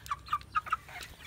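Backyard cockerels cluck softly while feeding, four short close clucks in quick succession followed by a quieter call.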